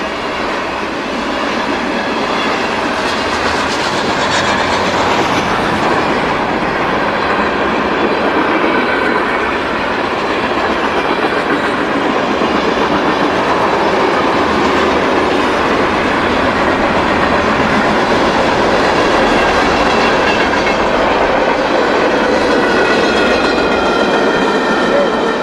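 A CSX freight train rumbles steadily past on the rails in cold, snowy conditions, with continuous clickety-clack and wheel noise, loud and close throughout.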